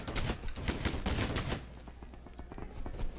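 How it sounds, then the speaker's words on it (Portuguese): Rapid gunfire in the Roblox game Energy Assault, a fast repeating burst of shots, denser and louder at first, then thinner and quieter toward the end. "Vocês ficam atirando. Isso chama atenção, sabia?"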